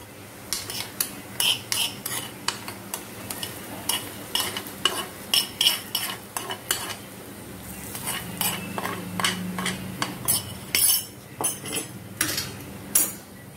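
Fried rawa and ghee are mixed into unniappam batter of rawa and maida in a bowl, a run of close, repeated clinking spoon and bowl strokes with quieter mushy stirring between them.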